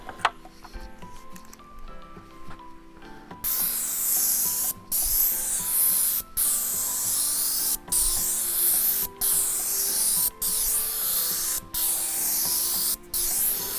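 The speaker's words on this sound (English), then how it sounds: "I'm going to show you what the airless sprayer would look like." An airless paint sprayer coating T1-11 wood siding lets out loud, steady hissing bursts. They run about a second or so each and are split by brief regular pauses as the gun is triggered pass after pass, following a short quieter stretch.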